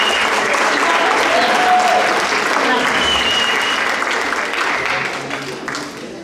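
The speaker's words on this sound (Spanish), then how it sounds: "vamos a recibir a Carmen con un aplauso" Students at Colegio Madrid applaud to welcome a guest speaker named Carmen before her lecture on Mesoamerica, a loud, full burst of crowd clapping that slowly thins out.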